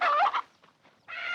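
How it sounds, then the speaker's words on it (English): An old hen squawks loudly and frantically in two harsh bursts separated by a brief quieter gap, close by and with no other sounds. "what's happened to that old hen?"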